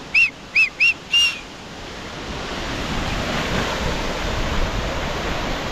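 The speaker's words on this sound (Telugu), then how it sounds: "ఇలాంటి ప్లేస్కి వచ్చినప్పుడు విజిల్ వేసుకున్నాం" Four short, loud whistles ring out one after another over the steady roar of Vasudhara waterfall, then only the constant rushing water continues.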